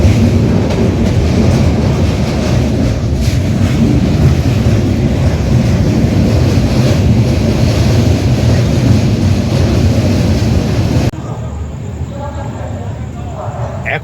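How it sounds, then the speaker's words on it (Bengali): A train rolls into Varanasi at night with a steady, loud rumble and rattle heard from on board. The noise drops suddenly to a quieter hum near the end, and speech is picked up faintly. "ট্রেন ঢুকছে বারাণসীতে"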